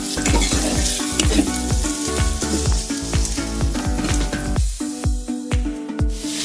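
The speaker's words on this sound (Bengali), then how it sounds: "কমিয়ে টমেটোটা ভেজেছি" Tomatoes fry over low heat for a dhaba-style egg tadka, sizzling close up while a utensil stirs and scrapes the pan in repeated strokes, with no talking.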